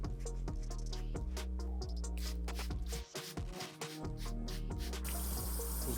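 Water runs over a 2001 Jordan 11 Low sneaker to rinse out cleaning solution, a loud continuous splashing flow that dips briefly mid-way before resuming.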